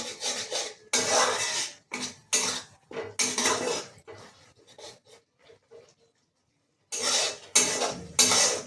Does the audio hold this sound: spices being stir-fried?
yes